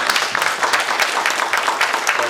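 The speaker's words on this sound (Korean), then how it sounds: "다시 한번 박수 부탁드리겠습니다" An audience at a place-branding and village-development lecture event claps for a presenter, a steady, dense patter of many hands at moderate volume, with no voices over it.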